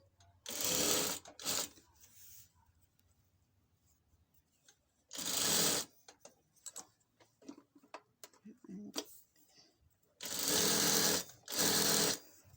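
Sewing machine stitching the crotch seam of a pair of trousers, with several short loud bursts of rapid needle chatter separated by quiet handling noises and someone speaking between runs.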